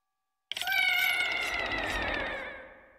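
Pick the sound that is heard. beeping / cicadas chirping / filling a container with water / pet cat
pet cat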